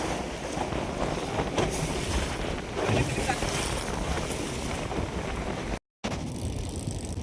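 Strong wind buffets the microphone at an outdoor fishing spot, a constant, loud roaring rush that hardly lets up, broken by a brief dropout near the end.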